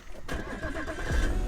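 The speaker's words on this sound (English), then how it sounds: "once plugged in, turn your engine on" An Audi A5 8T from 2007 starting up, its engine catching after a brief quiet moment and settling into a steady mid-pitched run that grows slightly louder, close by with no talk.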